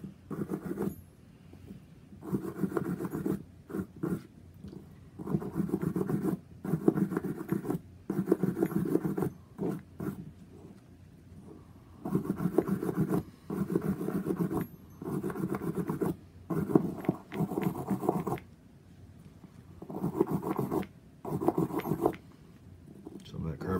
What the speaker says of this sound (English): Otis manufactures a brass all-purpose brush. This works excellent to get rid of nasty carbon.